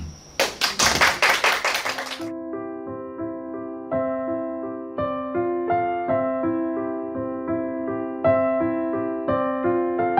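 A short burst of audience applause, about two seconds long, greets a stage reading of the Korean story 'Sarangsonnim and Mother' at a library speech event. Melodic instrumental music then begins and carries on alone.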